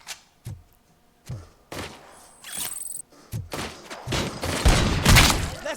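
Gunfire in the Robocop Rogue City video game: several sharp, loud shots at irregular intervals, ending in a denser burst of rapid fire with heavy thuds, with no talking.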